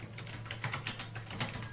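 Fingers tap out quick, irregular keystrokes on a computer keyboard at a CT scan workstation while orbit scan images are being annotated, with close, light clicks and no voices.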